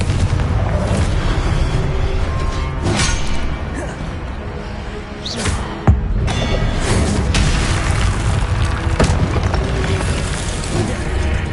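Confringo explosive spell blasts in a Hogwarts wizarding video game, a dense, continuous roar of booming impacts with several sharp cracks, loud and near, and spell shouts heard among the chaos.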